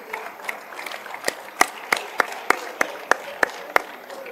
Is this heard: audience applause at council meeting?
yes